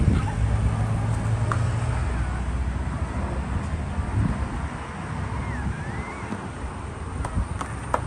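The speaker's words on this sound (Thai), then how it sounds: "มันลมเหลือเกิน" Strong wind blows steadily across an outdoor spot where a dog has just given birth to a litter of puppies, a continuous rushing roar buffeting the microphone throughout with no speech.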